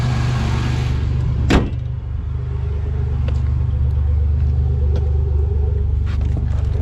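A supercharged Pontiac Grand Prix engine with a newly replaced fuel pump idles with a steady low rumble throughout, joined by a brief sharp knock early on and faint mechanical ticks.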